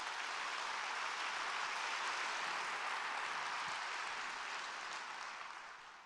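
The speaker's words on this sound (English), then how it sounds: "So let's give her a big round of applause." A large audience at the Long Beach State of the City address applauds Assemblywoman Bonnie Lowenthal, a dense, steady wash of clapping that holds for several seconds before tapering slightly at the end.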